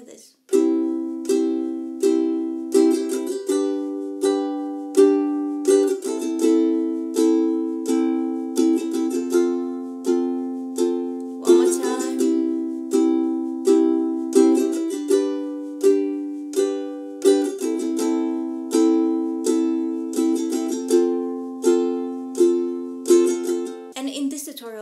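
Ukulele strumming a song's chord pattern, a steady down-and-up rhythm of bright strums with regular accents and chord changes every few seconds, played close and alone without talk.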